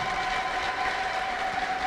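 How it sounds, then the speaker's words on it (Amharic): A church congregation clapping in praise, a steady wash of applause from a crowd heard at some distance, with a faint sustained tone riding above it. "አጨብጭቡ ለጌታ"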